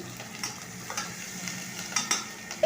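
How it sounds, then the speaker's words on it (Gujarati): Ginger and chillies hit hot oil in a pan for a pea and potato vegetable curry, giving a soft, steady sizzle with light stirring clicks and a few brief scrapes, fairly quiet throughout. "હવે તેમાં આદુ મરચાં નાખીશું"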